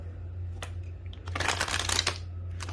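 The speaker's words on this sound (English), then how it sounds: "One more shuffle." Cards being riffle-shuffled in a few quick bursts, the main flurry loud and close, with brief riffles before and after.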